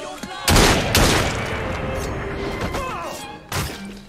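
Gunfire in the video game Assassin's Creed Syndicate: a few sharp, loud shots, two in quick succession and then one more after a pause, with rumbling noise and faint voices between them.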